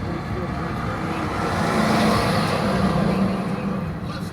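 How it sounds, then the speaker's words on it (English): A bus rumbles off, its engine noise swelling then holding as it pulls away nearby, with steady low road roar and no talk over it. "Yeah, there goes the bus."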